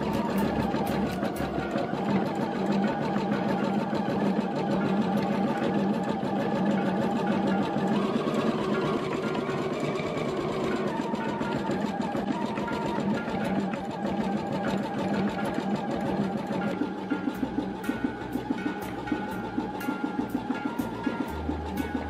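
An embroidery sewing machine stitches automatically with a fast, steady mechanical whir and rhythmic needle clatter. The drone continues unbroken for the whole stretch, with sharper ticking near the end and no speech.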